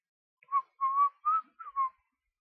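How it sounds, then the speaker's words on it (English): Someone practices whistling, producing five short, wavering whistled notes in a loose sequence, close and clear with silence around them. "I've been trying to whistle lately."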